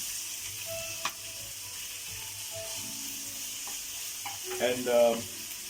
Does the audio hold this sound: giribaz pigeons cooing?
no